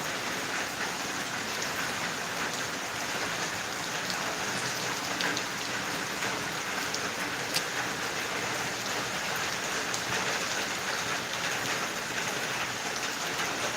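Rain patters steadily onto a tarred road by a home in Kerala, a continuous close wash of drops with a few sharper splashes standing out, and no talking.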